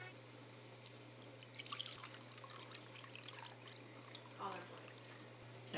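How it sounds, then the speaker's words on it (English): Buttermilk drains off freshly churned butter through a strainer indoors, making faint drips and a thin trickle with a couple of brief splashy pours over a low steady hum. "what you gotta do is strain it. You gotta separate the buttermilk from the actual butter."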